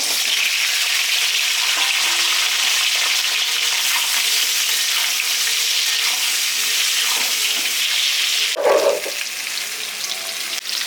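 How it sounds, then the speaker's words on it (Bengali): Potato pieces fry in hot mustard oil in a wok, a steady bright sizzle running throughout with a brief stirring clatter near the end. "তেল গরম হয়ে গেছে, আমি আলুগুলো একটু লাল লাল করে ভেজে নেব।"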